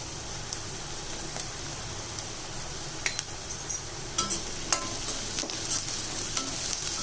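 Onion and crushed garlic sauté in a pan for a prawn fry, a steady soft sizzle under repeated scraping stirs and light clinks of a spoon against the pan.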